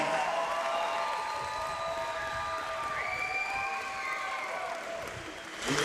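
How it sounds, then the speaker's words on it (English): A crowd applauds after a Muay Thai bout, with steady clapping and cheering that stays mid-distance, and tonal whistles or sustained calls ringing over the applause. "give him a big round of applause"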